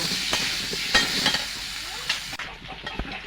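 Pumpkin and potato pieces seasoned with salt and turmeric fry in a pan, a steady broadband sizzle broken by a few sharp stirring scrapes, close and fairly loud with no talk.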